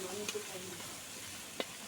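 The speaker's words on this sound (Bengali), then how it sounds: "লবণটা দিয়ে নাড়াচাড়া করে ভালো করে মিশিয়ে দিচ্ছি।" Potatoes fry quietly in a pan while salt is stirred through them, giving a faint steady sizzle broken by a couple of sharp spatula scrapes against the metal.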